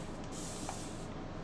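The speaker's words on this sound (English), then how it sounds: "So I'm going to spray this down" A steady spray hisses continuously as a transfer sign is sprayed down, loud and close with no talking.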